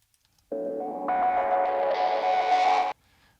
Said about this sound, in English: I wanted that exact distortion sound